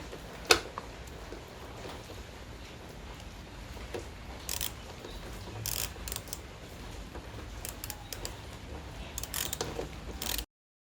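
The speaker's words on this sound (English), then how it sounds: "take out the screw for the rider seat" Screw being unscrewed from a Grand Pitstop Air Comfy rider seat, a steady run of small ratcheting, grinding clicks with a few sharper knocks, close and fairly quiet.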